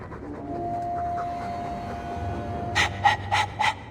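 In Dragon Age 2, a dog's breathing sits low under a quiet ambient hum, then four sharp, loud panting bursts come close together near the end.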